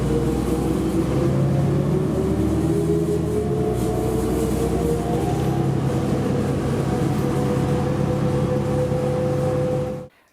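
A New Flyer D40LF diesel city bus pulling away, its engine note climbing in steady rising tones over a low rumble for about ten seconds before cutting off abruptly, with nobody talking.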